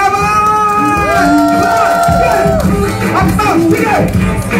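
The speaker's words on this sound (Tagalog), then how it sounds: "Palakpak at sigawan!" A birthday-party audience cheers and shouts loudly, with excited voices and children's cries overlapping in a lively, sustained din.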